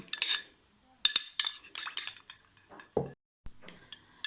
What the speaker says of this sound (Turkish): Bunu homojen şekilde iyice karıştırıyorum.